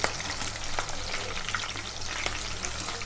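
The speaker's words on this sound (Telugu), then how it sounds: "ఇదిగోండి పచ్చిమిర్చి వేపుకుంటున్నాను, మెత్తగా వచ్చేదాకా వేపుకోవాలండి." Green chillies fry in hot oil for pakoda, a steady close sizzle with light crackles and occasional stirring scrapes throughout, no voices.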